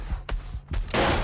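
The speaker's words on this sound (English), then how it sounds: "He's shooting me!" A few sharp gunshots crack in quick succession in the horror game Devour, close and punchy, followed by a burst of broad noise.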